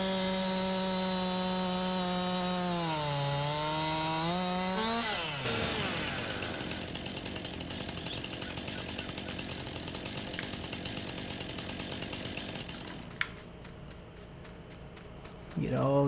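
A chainsaw cuts trees in Farming Simulator 19 on the Ravenport map, a steady buzzing engine drone that rises in pitch, then a harsher cutting roar continuing for several seconds at moderate level.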